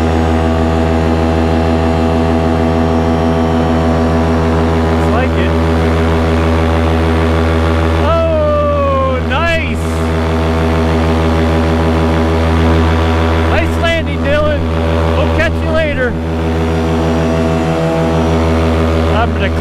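Fresh Breeze Top 80 paramotor engine droning loudly and steadily in flight, a constant close buzzing roar with a fixed pitch, while a voice talks intermittently over it.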